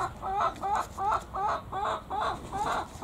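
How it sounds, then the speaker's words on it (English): Chickens on a garden allotment plot cluck close by in a steady run of about six rhythmic, repeated calls, loud and clear with no talk over them. "you can see I'm being bugged by the chickens"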